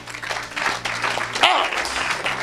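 A church congregation applauding for Jesus at a deliverance prayer, with dense, sustained clapping filling the room while voices shout over it.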